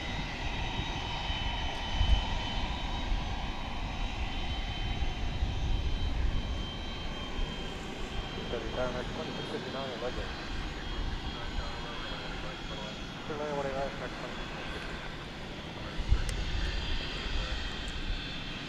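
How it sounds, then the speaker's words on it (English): A jet airliner taking off at night from the west side of the runways at DFW Airport, its engine roar a steady broad rumble throughout, with a speaking voice faintly underneath. "this too will be taking off from over here on the west side of the airfield"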